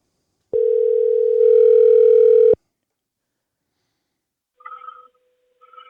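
A phone call connecting: a steady electronic telephone tone sounds for about two seconds and stops abruptly, followed by silence and a couple of faint, brief chirping tones from the line.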